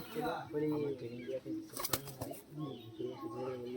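Madras high-flying pigeons of Chennai blood coo and flap their wings as they are let go at a loft, with people talking over the birds throughout.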